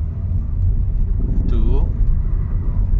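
A car sits idling in first gear as its engine gives a low, steady, close rumble that sags slightly as the revs fall, with a brief voice cutting in partway through.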